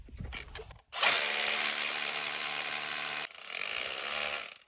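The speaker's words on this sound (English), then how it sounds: "So this drill has just a chisel feature, and so it's not spinning now." A power drill running in chisel mode, hammering without spinning to make an indent, gives a loud continuous buzzing rattle that starts abruptly, briefly dips and then resumes, with no voices.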